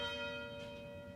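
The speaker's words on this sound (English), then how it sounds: "The University Tower chimes" University tower bell chime ringing a single sustained tone with a rich set of overtones, decaying slowly and faintly with no other sound.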